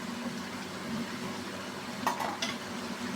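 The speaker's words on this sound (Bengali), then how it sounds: "এবং মাছ সহ আলু আলুকে আর একটু কষিয়ে নেব" Potatoes and singhi fish sautéing in a pan, a low steady sizzle and bubbling with a couple of soft clinks of a utensil against the pan, close but fairly quiet, no talking.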